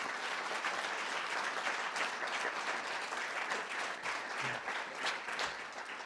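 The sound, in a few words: audience applause at a dinner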